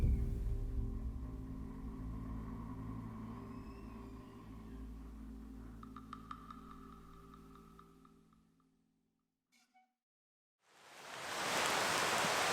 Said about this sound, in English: On this rainy, overcast day, we took a walk through the ruined seminary.